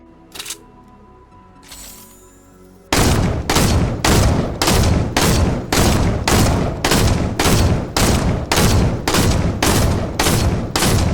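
Thermal-scoped assault rifle in Fortnite firing a long run of evenly spaced loud shots, about a dozen in steady rhythm, after a short quiet lead-in.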